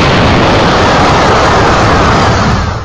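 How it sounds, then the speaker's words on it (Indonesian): A huge, loud roaring blast of dense broadband noise from a big explosion in the air fills the whole moment, sustained and rumbling before trailing off slightly. "terjadilah ledakan besar di udara"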